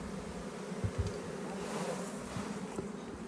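Honeybees hum in a steady, dense drone around open beehive frames, a faint and continuous buzz with occasional louder passes close to the listener and no talk.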